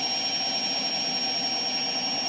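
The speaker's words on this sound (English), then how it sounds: "That's 800 RPM spin it is." A Bosch washing machine spins at 800 RPM, giving a loud, steady, high-pitched whine with a constant motor drone and no talking.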